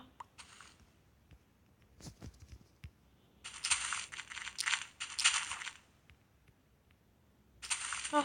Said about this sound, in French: c'est le bruit des feuilles.